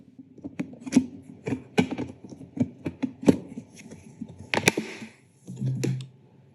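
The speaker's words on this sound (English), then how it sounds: "So we want to put the lid on the container." Sharp plastic clicks and snaps as a lid is pressed down around the rim of a plastic storage container for a filament drybox, a quick irregular series of close taps followed by a soft rubbing scrape.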